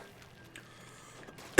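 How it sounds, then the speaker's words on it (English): A single sharp, loud cough bursts out at the very end, close to the mic, after a stretch of near-quiet room tone; it comes from someone with a persistent cough who isn't otherwise sick. "I've just got a killer cough right now"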